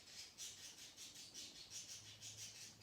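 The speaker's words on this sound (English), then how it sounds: "they love the sound of your birds" Faint, rapid chirping from birds repeats in quick pulsing bursts, a steady rhythmic twittering heard at low volume across the whole moment with no voices.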